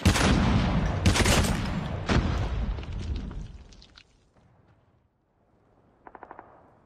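A dense, loud volley of rapid gunshots and blasts in Call of Duty Mobile multiplayer for several seconds, fading to near silence, then a brief quick burst of shots near the end.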